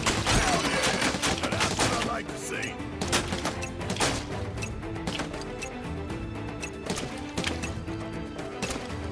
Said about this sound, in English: you gotta shoot these to death